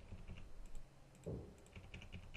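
Values typed on a computer keyboard in a short burst of quick, close, soft key clicks, with one slightly heavier keystroke midway.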